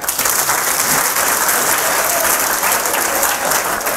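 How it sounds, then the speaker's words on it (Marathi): An audience at an employment fair event claps for themselves, a dense, loud and sustained wall of applause from many hands, continuous and even throughout. "तुम्ही स्वतःसाठी एक वेळा जोरदार टाळ्या वाजून घ्या."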